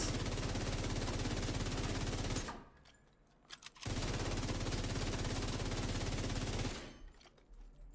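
Sustained automatic gunfire in the video game The Division 2, loud and continuous, broken by two short pauses before the rapid shots resume.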